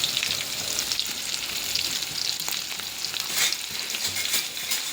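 Curry leaves and garlic frying in oil in a pan for an Uttar Karnataka stuffed eggplant curry, giving a steady, close sizzle with occasional stirring scrapes and no talking.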